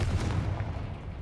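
Confringo fire spell cast in Hogwarts Legacy, a deep booming burst that lands at once and then rolls into a low sustained rumble over about a second.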